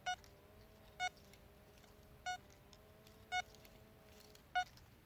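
A metal detector gives five short, clear beeping tones at a regular pace, each about a second apart, over a faint steady background hum.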